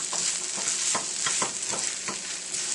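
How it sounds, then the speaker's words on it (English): Onions caramelizing in a pan, sizzling and frying steadily while a utensil stirs them in repeated scraping strokes, close and continuous with no talking. "Give it a stir."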